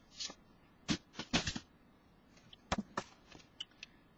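Cardstock cut to size for a layered handmade card, giving a series of short, crisp slicing and shuffling strokes in irregular bursts, close and fairly quiet, with brief pauses between them and no talking.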